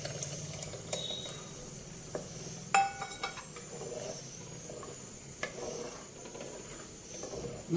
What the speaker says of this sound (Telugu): ఇప్పుడు మనం చింతపండు పులుసు పోద్దామండి